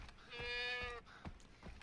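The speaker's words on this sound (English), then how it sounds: "Hello, goats!" A single drawn-out bleat from a goat in the video game Far Cry 3 rings out, followed by a few soft clunks and thuds; no talking.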